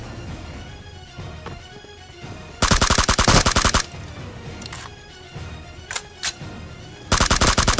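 Automatic gunfire in PUBG on the Livik map, Venom mode: two long, loud rapid bursts at the start and end, with short sharp shots and a quieter distant rattle between them, and no speech.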